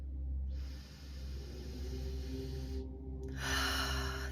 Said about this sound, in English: And we breathe so deep.